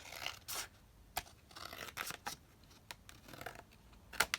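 Scissors snip along a paper piece for a quick holiday folio craft kit, heard as a few short, close cuts and rustles separated by brief pauses in a quiet room.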